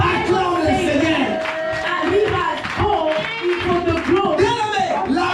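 A church congregation claps and calls out in praise of the Lord, a lively, continuous burst of applause mixed with raised voices and cheering.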